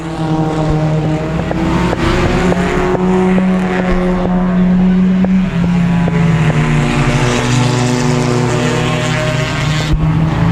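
Race cars roar around the I-37 Speedway track in a loud, continuous engine drone, with pitch sliding up and down as several cars run close together through the turns.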